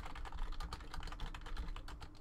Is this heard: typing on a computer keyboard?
yes